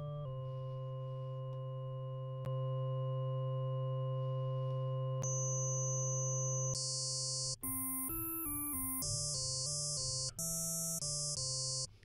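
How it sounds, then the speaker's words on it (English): A Serum wavetable synthesizer plays a pure sine-wave tone, steady and clean at first, then shifts into brighter, buzzier timbres in several abrupt steps, with no voice over it. "So let's go back to our sine wave."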